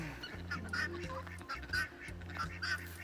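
Several ducks quack and honk in scattered bursts over a low, steady background rumble, the calls fairly close and overlapping.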